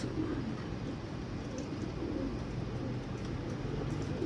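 Young Posta pigeons in a garden coo softly and repeatedly, faint and close, over a low background murmur.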